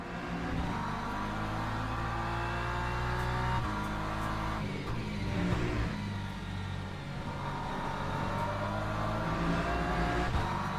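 A Ferrari race car's engine drones steadily in Le Mans Ultimate, close and continuous with shifting revs through an endurance race on a new track, with no talk over it.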